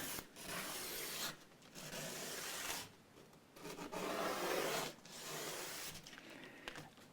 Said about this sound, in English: So I'm going to keep sanding.